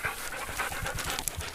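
Several dogs pant rhythmically on a walk, quick close breathy puffs repeating in an even pattern with no talking over them.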